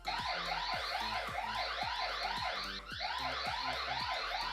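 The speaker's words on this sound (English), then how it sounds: "it's going to sound an alarm if this device is moved" A Eufy S380 security camera's anti-theft alarm blares loudly and close, a continuous rising-and-falling electronic siren that repeats in rapid whooping cycles throughout.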